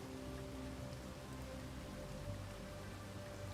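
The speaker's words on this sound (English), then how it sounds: "And it's raining again." Rain falls in the Space Engineers survival game, a steady, even hiss of drops on surfaces with no talk.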